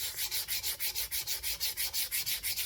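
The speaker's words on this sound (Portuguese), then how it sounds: "Onde eu quero clarear mais, eu lixo mais" Sandpaper rubbed by hand over painted wood to build a patina, in a steady run of about fifteen quick back-and-forth strokes, close, even and rhythmic, with no talk.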